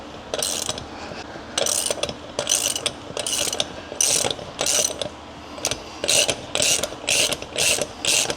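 A bearing is pulled out of a bicycle hub with a tool, heard as a close, loud series of rapid metallic ratcheting clicks in short repeated bursts separated by brief pauses.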